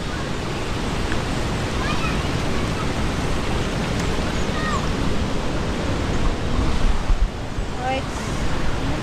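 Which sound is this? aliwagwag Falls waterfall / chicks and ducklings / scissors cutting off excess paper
aliwagwag Falls waterfall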